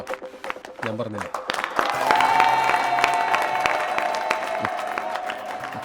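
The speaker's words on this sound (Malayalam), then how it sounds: "ഈ കൈയടിയാണോ?" Crowd applause swells up and holds as a dense wash of clapping, with voices talking over it and some tonal sounds beneath.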